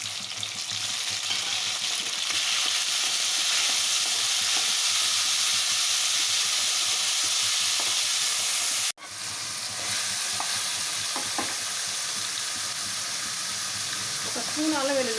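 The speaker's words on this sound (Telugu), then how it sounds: "పచ్చివాసన పోయే వరకు ఆయిల్లో ఫ్రై చేసుకోవాలి" Drumsticks and tomato pieces fry in hot oil with a loud, dense sizzle. The sizzle runs continuously, cuts out briefly partway through and then resumes.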